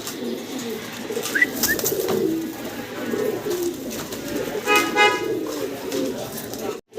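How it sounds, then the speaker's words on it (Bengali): Lahori pigeons coo softly in low, throaty bursts close by, with wing flutters and rustling as the birds move about; faint voices murmur in the background. "খুব চঞ্চল কবুতর দেখতে পারতেছেন ছোটাছুটি করতেছে"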